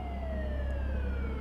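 A Minecraft police siren wails steadily with a slowly falling tone over a low rumbling engine drone, loud and continuous throughout the short stretch, with no talk.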